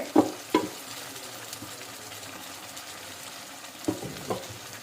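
Vegetable curry with tomato, turmeric and spices fries in hot oil in a home kitchen, a soft continuous sizzle broken by a few sharp clatters of stirring, close and without talk.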